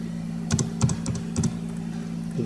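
Rapid keystrokes on a computer keyboard enter an amount into a cashback service, arriving as a few short clusters of crisp, close clicks over a faint steady hum.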